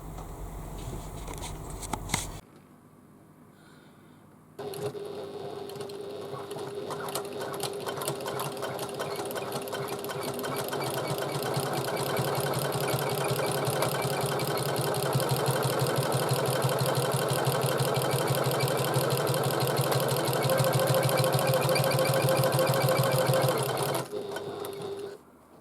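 A sewing machine stitching a bag, running in one long continuous whirring, rapid-ticking burst after a brief stop-start at the beginning.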